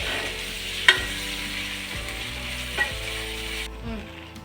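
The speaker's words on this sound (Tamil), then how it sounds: "2 பச்சை மிளகா, கொஞ்சமாக கருவேப்பிலை போட்டு நல்லா வணக்கிக்கலாம்." Green chilies, curry leaves and mint sauté in oil in a pan with a close, steady sizzle, punctuated by a couple of sharp spatula clicks and soft stirring scrapes, with no talking.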